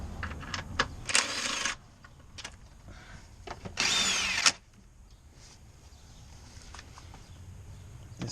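Power drill working on a 2006 Toyota Tacoma engine during a valve cover job: two short whirring bursts separated by quiet, the second about a second long, with faint handling noise between.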